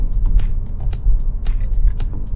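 A Volvo S90 plug-in hybrid accelerates at full throttle with a loud, close engine and road roar, marked by repeated rhythmic bursts and surges of noise.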